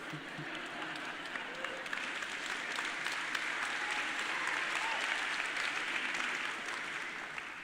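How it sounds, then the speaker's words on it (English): Sustained applause from a large audience, a dense wash of many hands clapping at once that holds steady throughout. "now they're clapping about it"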